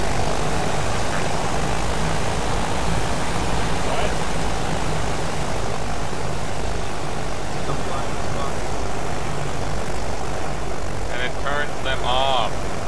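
Airship engines droning at half load in the game Worlds Adrift, a loud continuous propeller-like hum that holds steady throughout, with someone speaking over it.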